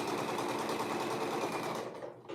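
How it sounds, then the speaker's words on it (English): Sewing machine stitching a 3/8-inch seam allowance around a garment piece, a loud, close, continuous rapid whirring run that slows and stops near the end. "So I'm going to sew it all the way around at a 3/8 seam allowance."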